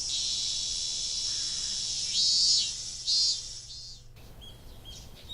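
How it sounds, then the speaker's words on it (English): Cicadas drone in a steady, loud high-pitched chorus across a summer mountain forest in the game Higurashi, swelling in two brief louder bursts before cutting off abruptly, leaving quieter ambience. "The cicadas are pretty."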